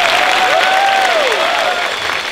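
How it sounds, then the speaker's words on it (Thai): A group of people gives a round of loud applause, clapping densely and steadily, while a thin whistle-like tone glides up and down on top. "เสียงปรบมือให้กับตัวเองครับ"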